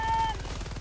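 Rapid automatic gunfire from the Helldivers 2 video game, a dense stuttering burst of shots with a brief tone at the start and no talking.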